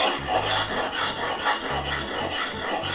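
A deba kitchen knife being sharpened on a natural sudo whetstone, with a coarse, rhythmic scraping of repeated back-and-forth strokes, close and steady without speech.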